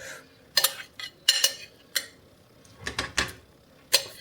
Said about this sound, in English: I'm going to pop the meatballs in there